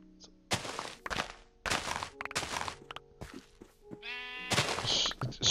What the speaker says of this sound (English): Sheep, look,